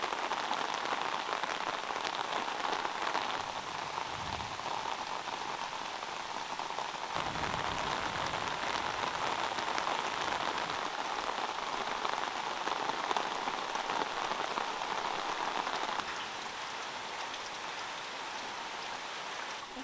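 Rain falling steadily on a farm, a dense even hiss of drops pattering on surfaces nearby, moderately quiet and continuous, with no one speaking.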